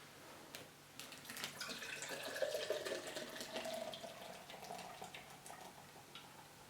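Beer pouring from a makeshift tap rigged from a dismantled desk lamp, sellotape and a can, a thin steady trickle of liquid with faint splashing, quiet and continuous.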